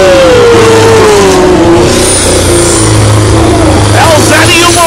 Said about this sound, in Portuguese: É muito barulho, é muita potência nas máquinas.